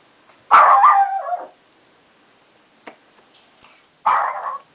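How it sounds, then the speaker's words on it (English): A dog barks at someone arriving at the door, two loud close bursts of barking about three seconds apart, with faint small sounds between them and no talking. "Somebody came to the door. So my dog started barking."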